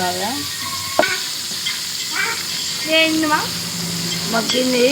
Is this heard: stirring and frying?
yes